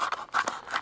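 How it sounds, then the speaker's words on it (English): A knife slices through a plastic blister pack during the unboxing of a Warhammer miniature, giving a few short, close scraping cuts in quick succession. "I'm using a knife to just cut this open"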